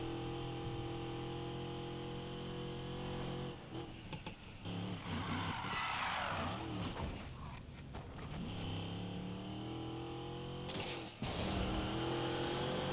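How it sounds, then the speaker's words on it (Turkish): A car in the racing game Need for Speed Payback drones at a steady engine hum, then revs and shifts through changing pitch with skidding noise, and ends in a sharp burst of acceleration, moderately quiet. "Aracın sese bak."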